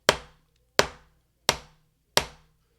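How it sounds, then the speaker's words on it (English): Four sharp, cracking snare drum rim shots, stick striking drum and rim together, with a ringing metallic edge, evenly spaced and played alone, each decaying quickly. "When you hit the drum and the rim at the same time, it'll sound like this."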